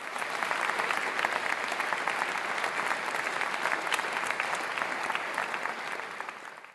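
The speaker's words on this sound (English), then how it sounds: "ladies and gentlemen, a big round of applause for our Material Girls this evening." Audience applause at an awards ceremony, a steady, dense clapping from a large crowd that holds for several seconds at moderate distance before easing slightly at the end.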